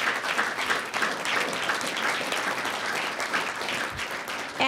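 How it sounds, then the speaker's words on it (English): An audience at a board meeting gives a big round of applause for coaches and a trainer, steady dense clapping of moderate loudness that fades slightly toward the end. "So let's give them all a big round of applause"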